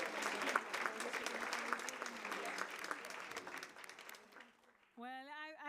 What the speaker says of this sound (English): to hear this applause, which is in fact a hug